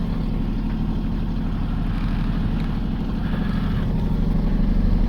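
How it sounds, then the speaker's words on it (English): The inboard engine of a sailboat motoring toward Padstow drones steadily at low pitch, a constant close hum with faint wind and water wash over it. "as you can hear, the engine's on as well"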